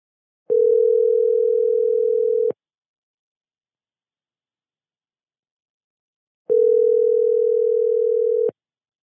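Two long telephone ringback tones sound during an outgoing call, each lasting about two seconds with a four-second silent gap between them, clean and steady.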